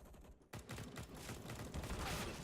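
Rapid automatic gunfire rattles continuously in Counter-Strike: Global Offensive, a dense burst of shots starting abruptly after a brief quieter moment and staying loud throughout.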